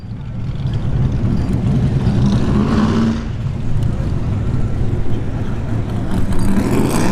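At ShowTime Dragstrip, a white C3 Corvette's engine rumbles loud and deep during test-and-tune drag racing, a continuous roar that dips briefly and then swells again.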